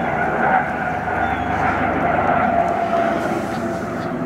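A helicopter passes overhead in a yard setting, its steady broad rotor and engine roar loud and continuous throughout, with no talking.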